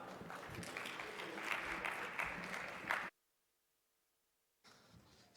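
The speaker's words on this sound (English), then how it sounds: "please give your biggest round of applause to Safwan Rahman" Applause at a leadership conference as a comedian is introduced: loud, full crowd clapping swells for about three seconds, cuts to near silence, then resumes.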